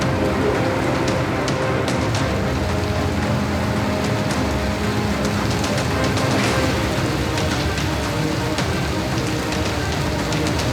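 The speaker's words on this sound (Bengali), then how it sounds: "আজ দুপুর থেকে যে তুমুল বৃষ্টির সঙ্গে ঝোড়ো হাওয়া এবং ঘন ঘন বজ্রপাত" Heavy rain pours down across Kolkata during an afternoon storm with gusty wind, a dense, continuous hiss of drops hitting surfaces, steady and loud throughout with no voices.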